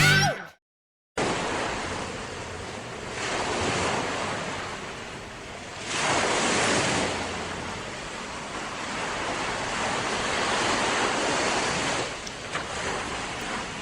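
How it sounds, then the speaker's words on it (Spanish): Sea waves roll and break in slow surges, swelling and fading in a steady hiss of surf, with wind rushing across the microphone. "Es el sonido del mar."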